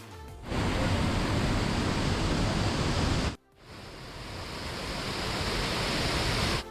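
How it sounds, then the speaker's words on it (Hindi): Bhatta waterfall near Mussoorie roars as a steady, dense wash of falling water, close and loud, with a brief break midway before the rushing continues. "लेकिन भट्टा वाटरफॉल बहुत ही खूबसूरत और शांत जगह है, इसलिए यहाँ आप जरूर आएँ।"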